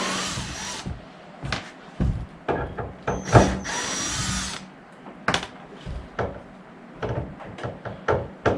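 A power drill backing screws out of a military trailer camping conversion, giving short whirring bursts of varying length with clicks and knocks of handling between them, close and loud.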